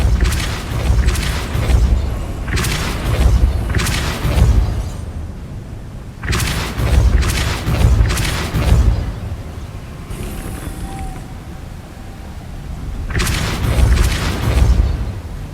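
Repulso spell blasts in the video game Hogwarts Legacy: a run of loud, deep booming bursts in uneven clusters, each with a rumbling tail, separated by brief quieter gaps.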